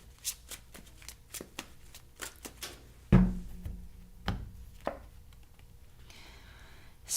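Tarot cards are shuffled and dealt in a quiet room: a string of crisp, close riffling flicks and taps, one sharper thud midway, with no talking.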